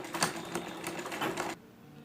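A sewing machine stitches salwar fabric in a rapid, close, rattling run of needle strokes that stops abruptly, leaving near silence.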